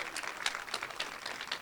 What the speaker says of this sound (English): I'll tell him you clap for him.